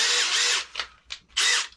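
An electric drill from a tradesman's kit runs in three loud bursts: two long whirring runs, a couple of brief stutters, then a final sustained spin, with no talk.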